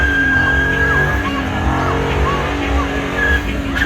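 V6 car doing a burnout at the Warsaw Auto Show burnout contest, with loud sustained tire squeal and a revving engine roaring steadily throughout, crowd noise underneath.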